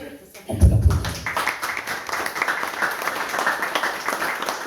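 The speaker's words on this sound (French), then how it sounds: "On peut l'applaudir." An audience applauds a triathlete at a Moroccan triathlon race event, the clapping building after a brief low thump into steady, moderately loud applause that continues evenly throughout.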